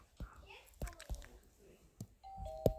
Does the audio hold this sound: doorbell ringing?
yes